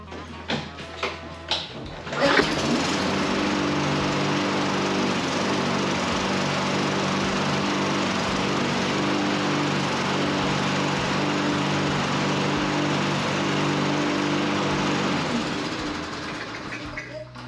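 A Lawn Boy walk-behind lawn mower engine, just after a carburetor rebuild, starts after a few brief pulls and settles into a loud, steady, continuous run close by, with a slight fade near the end.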